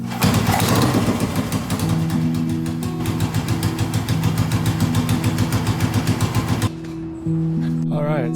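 A motorcycle engine idles steadily and slightly high during a battery charging test, a close, even rhythmic putter that drops off near the end before a brief restart or change in tone.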